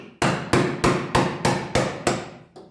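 A chisel hammered to pop out spot welds on the floor of a 1971 Torino GT: eight loud, ringing metallic strikes at a steady, even rhythm, close up and alone.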